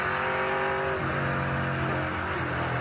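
A TA2 muscle race car roars loudly onto the main straight at Sydney Motorsport Park, its engine note sustained and rising as it accelerates, with crowd-free track noise and no voices.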